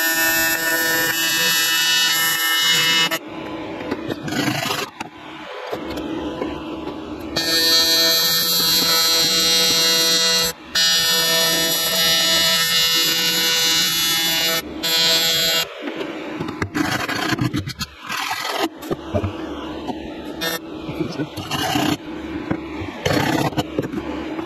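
A TIG welder works on a crack in a boat transom, giving a steady electric buzz with a constant tonal hum that runs through most of the clip and breaks off at a few short pauses.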